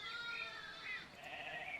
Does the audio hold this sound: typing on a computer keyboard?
no